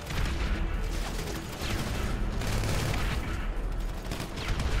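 Sustained gunfire from a team deathmatch in Grand Theft Auto V, loud and dense, with overlapping pistol shots and bursts rattling continuously without pause.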